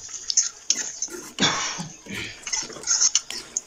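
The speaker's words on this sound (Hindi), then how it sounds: "थोड़ा सा मिक्स कर देंगे" Whole garam masala being mixed into potatoes and aubergine in a pot for aloo baingan, with close, uneven scraping and clinking of a spoon against the metal pot in short bursts.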